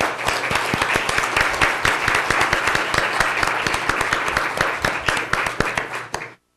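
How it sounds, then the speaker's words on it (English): An audience at a founders forum evening program applauds in a loud, continuous burst of many hands clapping, with a few sharp individual claps standing out, before it cuts off abruptly. "So could we have a round of applause for them as well?"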